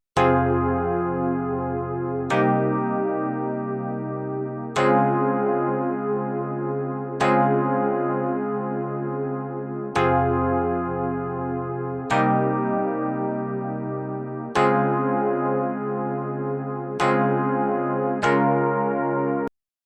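Layered synth pad chords from the Korg Triton Simple Sine Pad preset with Pancake 2, struck roughly every two and a half seconds, each sustaining and slowly fading, loud and alone without talk.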